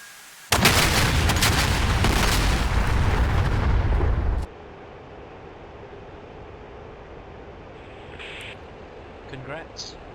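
A heavy bomb explosion in the DCS flight simulator, a huge deep rumbling blast that holds for about four seconds and then cuts off into quieter engine hum.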